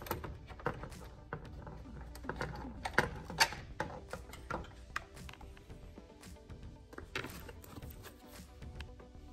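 A socket wrench ratchets on a bolt behind the bumper of a Ford Bronco Raptor, fitting a fog light kit. It gives short bursts of clicks with pauses between them, close by and fairly quiet, and no one talks.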